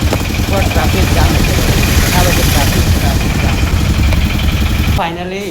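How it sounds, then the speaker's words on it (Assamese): Vehicle engines idle steadily in a Guwahati traffic jam, a dense, continuous low rumble from nearby cars and motorbikes, with faint voices mixed in before the noise drops abruptly near the end. "traffic jam"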